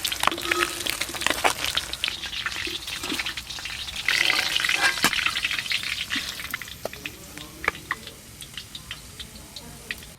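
Fish frying in oil, a close crackling sizzle with sharp pops and spits scattered through, steady and moderately loud, with no talk.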